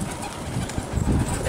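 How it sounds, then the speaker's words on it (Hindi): A flock of 200 fighting pigeons being released sends up a close, steady rumble of wingbeats and soft cooing, with faint voices in the background. "ये इनके 200 कबूतर खोल रहे हैं"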